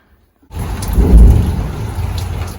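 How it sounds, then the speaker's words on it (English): Thunder rumbles through a rainstorm, a low rolling boom that swells and then holds over a steady wash of rain, loud and close, with no talking. "It's like raining and there's thunder and stuff."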